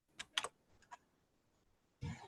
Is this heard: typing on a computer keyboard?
yes